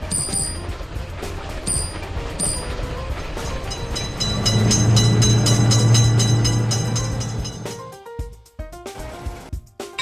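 In a railroad crossing video game, a train passes a level crossing with a loud, continuous rolling rumble and sustained horn-like tones that build to a peak, then break off into scattered clicks.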